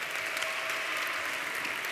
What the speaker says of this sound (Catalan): però rebreu els aplaudiments tope